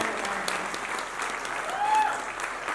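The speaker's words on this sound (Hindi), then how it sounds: "एक बार जोरदार तालियां बजा दीजिए अगर आप लोग" An audience at a poetry performance applauds steadily, a dense patter of clapping that holds at moderate loudness for the whole stretch.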